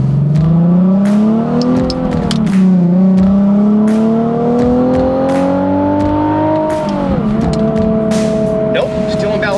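Car engine revving and accelerating hard on a test drive after a dealer repair, pitch climbing in long sweeping rises with gear changes, loud and close from inside the cabin, with voices talking over it.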